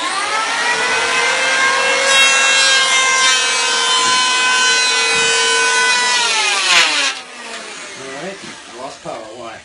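Electric hand planer cutting wood with no dust bag fitted, a loud close high-pitched whine and rasping cut that holds steady, then winds down as the motor spins off, leaving faint rustling.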